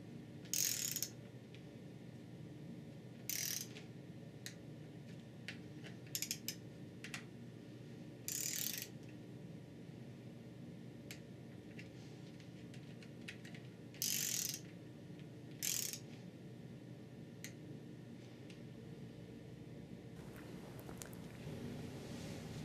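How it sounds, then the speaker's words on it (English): Torque wrench on the pan screws of a Chrysler 46RE automatic transmission, giving a handful of short, sharp ratcheting clicks in separate bursts over a steady low workshop hum, close by with no talk. "Torque the screws to 35 inch pounds or 4 newton meters."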